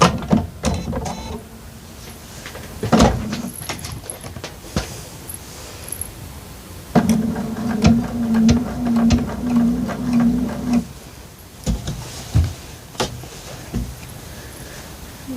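A sewing machine stitching quilting fabric runs in short spurts, a fast steady whirring hum for several seconds at a time, close and clear, separated by pauses with small clicks and handling.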